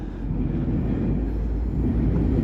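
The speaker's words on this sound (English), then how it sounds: "You can hear another train going by right there." Train passing through downtown Toronto on a wintry evening with snow flurries, a steady low rumble and rolling clatter heard from somewhere nearby but out of sight, continuous and fairly loud with no talking.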